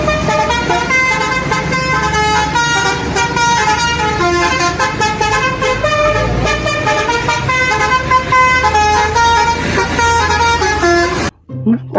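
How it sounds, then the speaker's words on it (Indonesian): A Harapan Jaya bus passes close by, sounding a loud, continuous, melodic multi-tone horn that plays for about eleven seconds before cutting off abruptly. "Kali ini ada bus Harapan Jaya teman-teman."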